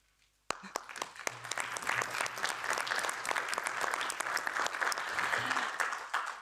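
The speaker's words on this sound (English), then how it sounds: "we can applaud him" Audience applause for Frederic Baldan in a European Parliament hall starts abruptly and holds as a steady, dense patter of many hands, with faint voices mixed beneath it.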